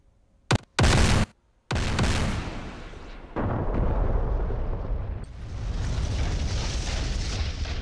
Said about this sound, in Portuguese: eu acho que caiu só uma bomba aqui